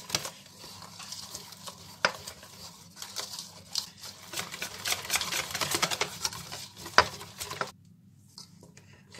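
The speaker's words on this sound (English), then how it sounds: "now we're just going to whisk all of that in" Lentil bhaji batter with red cabbage being whisked in a bowl, a busy run of quick scraping and tapping strokes that builds in the middle and stops abruptly near the end, close and moderately quiet.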